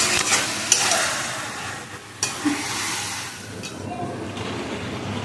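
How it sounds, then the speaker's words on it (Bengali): Biryani masala with pepper and onion paste is stir-fried in a pot: a close sizzle under sweeping, scraping spoon strokes, with a couple of sharper clanks and a quieter patch midway. "এবার এটা ভালো করে কষাতে হবে"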